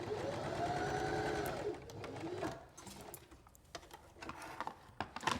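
A sewing machine runs steadily for about two seconds, stitching down one side of a log cabin quilt block strip with a quarter-inch seam allowance. After it stops, quieter clicks and handling noises follow.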